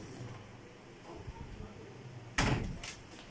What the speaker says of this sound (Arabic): وهاجي اقفل الباب بتاعي